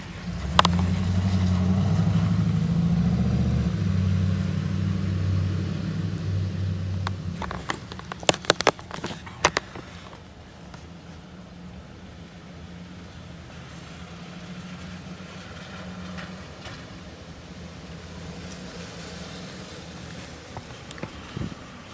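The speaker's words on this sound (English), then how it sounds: "And there's cars driving around everywhere." Cars driving by on wet roads in the rain, a steady low rumble and hiss of passing traffic that fades after several seconds into a quieter wash, with a few brief sharp knocks partway through.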